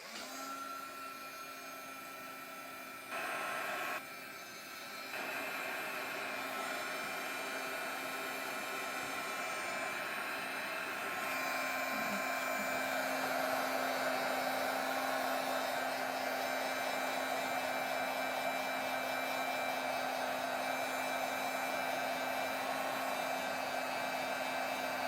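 Hair dryer drying purple paint on a mixed media tag, a continuous loud whirring blow with a steady hum, briefly changing pitch near the start and then running unbroken to the end.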